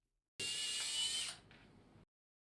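A 2.5 mm drill bit bores into bone cortex at the entry point during pediatric femur fixation, giving a single high-pitched whirring burst of about a second and a half that drops in pitch before stopping.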